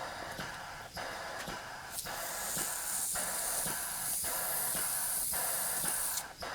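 Compressed air hisses loudly and steadily through a 30 psi gauge on a waterjet setup, a broad continuous rush with faint regular pulses and small dips, heard close up.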